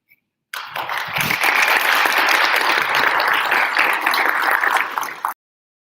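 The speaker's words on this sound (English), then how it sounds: "give another round of applause" Sustained applause from an audience at a school honor society induction ceremony, with dense steady clapping that starts abruptly, holds for about five seconds and then stops.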